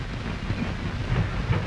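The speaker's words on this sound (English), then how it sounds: "N&W 50 450 rolls over and down the hump too" A Norfolk & Western freight car rolls over and down a classification yard hump, a low rumbling roll with faint wheel clatter, steady and fairly quiet with no voices.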